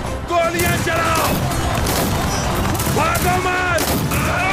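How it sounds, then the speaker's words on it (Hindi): Gunfire in a battle scene crackles in dense volleys with booms and crashes, loud and continuous, with shouting voices mixed in. "गोलियां चलाओ"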